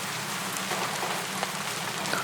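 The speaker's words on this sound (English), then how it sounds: "the steady rain muffling the sounds of the camp and creating an almost surreal sense of isolation" Steady rain falls on surfaces around a war camp, an even, dense hiss with scattered drop patters and no break throughout.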